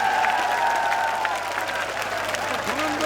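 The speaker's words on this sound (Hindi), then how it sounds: "यहाँ मौजूद एक आदमी हाथ उठा करके ताली बजा के मुझे समर्थन दे।" A rally crowd claps continuously, a dense wash of applause with faint tonal sounds in the background.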